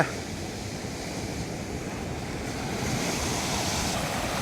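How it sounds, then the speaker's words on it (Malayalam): Strong sea surf crashing onto a beach where fishermen haul a net: a continuous loud roar of breaking waves with wind buffeting the microphone, swelling slightly toward the end, with no voices. "ശക്തമായ തിരയാണ് അതിശക്തമായ തിരയും"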